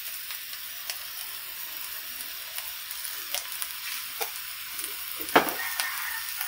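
Vegetarian noodles being stir-fried in a pan with seasoning, a steady hiss of frying with occasional clacks and scrapes of stirring, fairly close; no talking.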